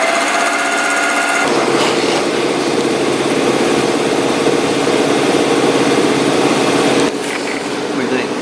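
Steady high-pitched whirr of a machine tool cutting a small bevel on an aluminum tie rod, loud and continuous with a brief shift in tone partway through, alongside voices in a workshop.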